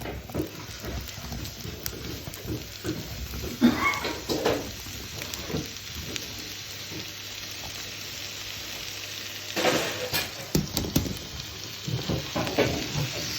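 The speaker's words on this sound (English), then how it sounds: "the butter is melting down, and we're going to add this chanterelle mushroom" Chanterelle mushrooms frying in melted butter in a pan, a steady close sizzle with occasional louder crackling bursts and stirring clatter, no talking.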